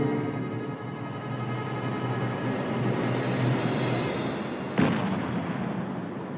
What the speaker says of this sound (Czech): Slyšíš? Dělo z pevnosti IF.